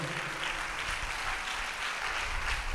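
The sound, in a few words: congregation clapping in church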